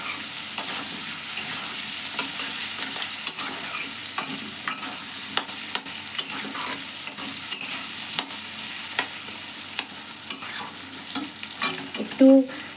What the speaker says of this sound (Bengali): এই আলুগুলোকে এবার আমি ভালো করে ভেজে নেব পেঁয়াজের সাথে